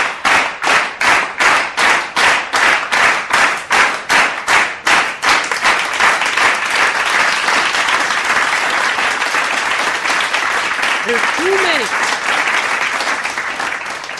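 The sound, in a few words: applause, clapping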